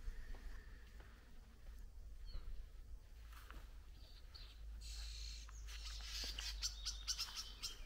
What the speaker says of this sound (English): the reason why we have so many birds here is because there are birdhouses on the trees